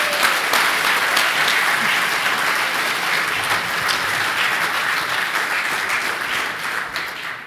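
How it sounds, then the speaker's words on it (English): Loud applause from the audience at the APRICOT 2016 conference plenary and closing ceremony, dense continuous clapping that runs for several seconds and slowly tapers off at the end. "That's been the loudest applause so far."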